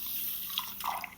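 Water poured from a bowl into a pan of sugar for making syrup, a close, steady wet trickle and splash with light dripping, rising slightly near the end, with no voices.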